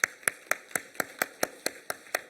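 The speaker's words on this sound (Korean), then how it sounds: "우리 감사의 박수 한번 영광 돌리겠습니다" A church congregation claps together in thanks during a Sunday morning worship service, about ten crisp, evenly spaced claps in a quick steady rhythm.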